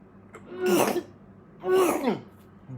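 Two sneezes, close and fairly loud, a second apart, burst out in a home kitchen while mac and cheese is being made.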